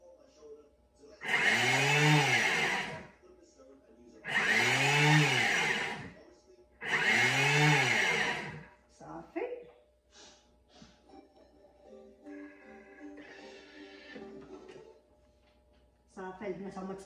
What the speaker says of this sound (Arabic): هاهما تطحنوا مخلطين كاملين، زريعه كتان كلشي كلشي تخلط مزيان